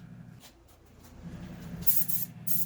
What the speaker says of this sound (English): When you are spraying finishes on projects like this